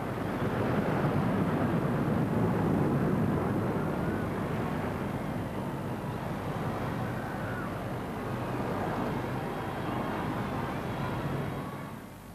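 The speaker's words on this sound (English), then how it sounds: "2 state-of-the-art typhoons and 2 tornadoes blasting overhead in box formation" Two Typhoon and two Tornado fighter jets roar overhead in box formation at a royal wedding in London, a loud, sustained broadband rumble that swells and holds for the whole stretch before easing off at the end.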